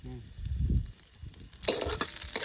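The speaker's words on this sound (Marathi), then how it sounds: "आता आपण हा सगळा मसाला भाजून घेऊया" Spices for chicken curry sizzle and crackle in a hot pan, with stirring scrapes; the frying grows louder and brighter partway through.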